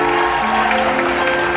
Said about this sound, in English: can we get a massive round of applause for these boys behind us tonight?